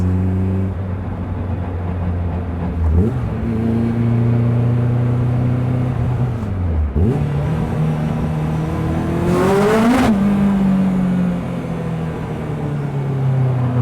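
A Lotus Exige sports car engine revs and pulls through several gear changes while driving on a residential road, loud and close, with rising and falling pitch across the run.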